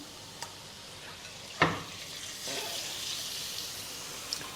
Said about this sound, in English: the pork that we had marinating? That's going to go right in this pan.